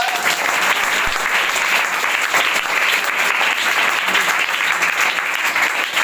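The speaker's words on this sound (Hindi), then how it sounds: "सागर जी, ताली इनके लिए हो जाए।" Students and guests at a coaching centre on Children's Day clap for a panchayat samiti member, a thick continuous roll of many hands at even, fairly loud level throughout, with no voices over it.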